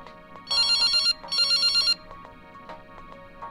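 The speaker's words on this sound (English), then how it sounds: "My phone rings." Two bursts of a bright electronic phone ringtone in the horror video game Sunny Day Jack, each lasting about half a second, then quieter tonal game ambience.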